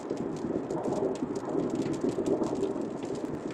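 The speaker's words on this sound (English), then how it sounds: "Rain's starting to pick up a little bit, though." Rain falls on a car driving along a state highway toward Vermont, a steady muffled wash of drops and road noise heard from inside the cabin, with no voices.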